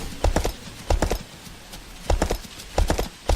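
A horse gallops in the medieval building game Kingdoms: quick clusters of clip-clopping hoofbeats come in rhythmic bursts, loud and close, with short pauses between strides.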